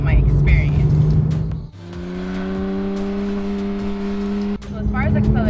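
A 2018 Porsche 991.2 GT3 fitted with a GMG aftermarket exhaust drives close by, its engine holding a steady droning note that swells in level and then cuts off sharply before the sound returns.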